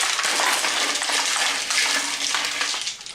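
Ice poured over vacuum-sealed bags of cooked pork chops, a loud continuous rattling, clattering cascade close up, lasting throughout with a slight fade at the end.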